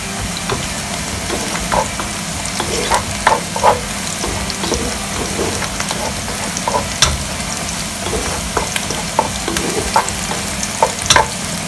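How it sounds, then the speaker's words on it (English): Onions and other ingredients for yellow coconut rice fry and brown in a pan with a steady sizzle, with occasional stirring clicks and scrapes throughout. "I want it to brown a bit more before I add my rice."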